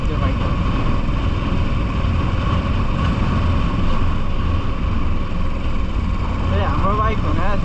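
A Royal Enfield Classic 350 motorcycle running steadily while being ridden, a continuous low engine rumble mixed with wind noise, with a rider's voice talking over it.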